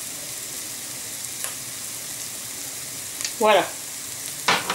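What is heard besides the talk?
stirring onions with spices in a pan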